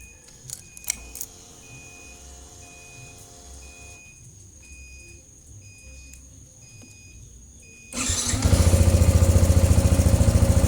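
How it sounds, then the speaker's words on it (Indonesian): Keys jangle and a warning beep repeats, then a bored-up Yamaha Vixion 165cc motorcycle engine starts and runs with a loud, rapid, throbbing idle near the end. "sedikit review suara mesin yang telah di bore up"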